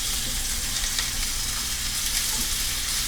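Brick chicken and onions fry in a hot pan with a steady, dense sizzle and crackle, loud and close throughout with no pauses.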